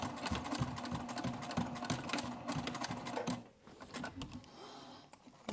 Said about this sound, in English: Alright, so I've just sewn through the exterior.